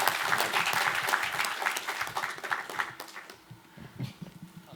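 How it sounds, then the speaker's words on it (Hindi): An audience at a cultural festival inauguration claps enthusiastically, the dense applause holding strong for a few seconds before thinning out and fading. "प्लीज़ एक बार तालियां"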